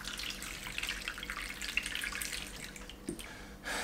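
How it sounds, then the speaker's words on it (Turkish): Ice water pours over freshly made homemade salami, a quiet steady trickle with dripping spatters, faint and close. "Son olarak şöyle üzerinden buzlu suyumuzu döküp salamımızı soğutuyoruz."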